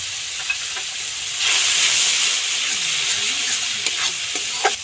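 Onion, green chilli and cumin crackle and sizzle in hot oil, a loud close frying hiss that swells after a second, with occasional stirring clinks throughout.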